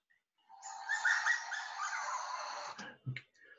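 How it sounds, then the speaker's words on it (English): Coyotes call at night in a riparian setting, a dense chorus of high wavering yips and howls lasting about two seconds, then a couple of brief sharper yelps near the end. "Coyotes at night, yipping and a yapping."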